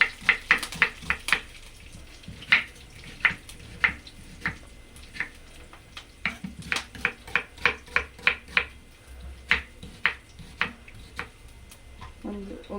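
Knife chopping an onion on a board for a dal tempering, a quick run of sharp, fairly close taps in uneven bursts over faint kitchen background.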